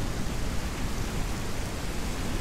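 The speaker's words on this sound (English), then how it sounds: "Yeah, the rain's coming in." Steady rain falling in the survival video game Mist Survival, a dense, even hiss of downpour filling the whole clip with no talk.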